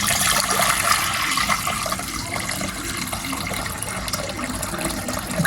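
Boiled and cooled water is poured into a pot, a loud, steady splashing gush running continuously and close by.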